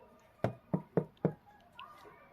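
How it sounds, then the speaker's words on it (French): Four firm knocks on a door in quick, evenly spaced succession, close and clear with nothing else around them, used in a telling of the Goldilocks story. "Elle frappa à la porte."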